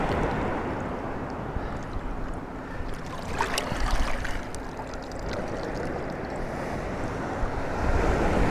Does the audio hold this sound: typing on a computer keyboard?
no